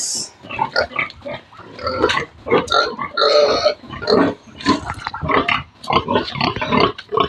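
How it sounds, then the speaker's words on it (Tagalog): Pigs grunting in a backyard pen, a busy series of close, loud grunts and snorts in irregular bursts, several animals overlapping with short squeals mixed in. "Muna ang akong mga alagang baboy."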